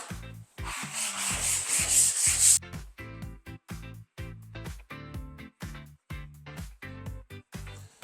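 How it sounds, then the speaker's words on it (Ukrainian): Sandpaper rubs over a wooden tabletop, first a long continuous scrape, then a series of quick, rhythmic back-and-forth strokes close by. "Беремо шкурку."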